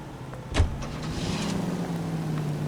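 A truck in a driving video game, its engine idling and running steadily at close range after a brief bump near the start, no voices over it.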